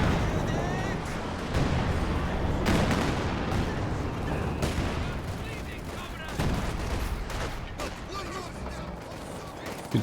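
An artillery barrage in the Company of Heroes 2 video game, a dense run of booming impacts, crackling gunfire and explosions under constant commentator talk.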